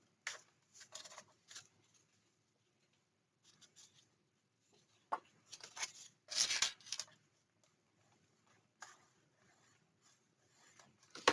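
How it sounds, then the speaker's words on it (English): A tool rubs along a folded paper score line in a crafting session, making soft, scattered scraping strokes in short bursts with quiet pauses between them. "So I'm going to fold it on the 1/2 inch and burnish."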